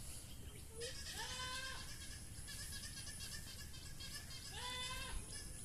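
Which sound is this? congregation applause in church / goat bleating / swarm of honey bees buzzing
goat bleating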